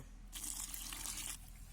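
A short, faint splash of water is poured into a bowl of cornflour to make oobleck, lasting about a second in a quiet room.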